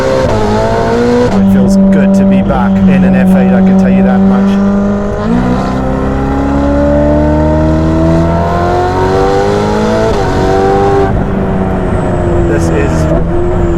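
Ferrari F8 with a Novitec exhaust tuned to 818 hp accelerating on streets, its engine note climbing steadily in pitch through the gears, loud and close inside the cabin while someone talks over it.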